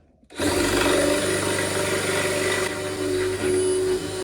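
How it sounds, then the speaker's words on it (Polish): A drill with a larger bit starts abruptly and runs continuously at a steady whine, loud and close, with grinding texture throughout, drilling out a nut on a Peugeot 106 bumper. "Potrzebne było po prostu większe wiertło."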